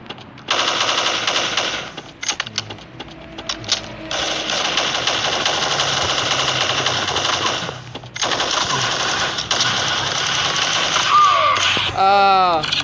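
Rapid automatic gunfire in the Vietnamese shooter game Tập Kích, in its King of Guns mode: long, loud, continuous bursts broken by brief pauses, followed by a warbling effect at the end, with voices talking over the shooting.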